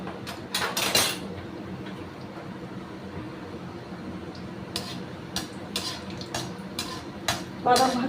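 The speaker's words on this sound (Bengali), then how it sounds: "বাদাম ভাজা যেরকম হয় আর কি তেল, সেই রকম একটু ভেজে নিচ্ছি" Peanuts frying in hot oil in a pan for a mung dal and cabbage dish, a soft low sizzle broken by sharp clinks and scrapes of a utensil against the pan.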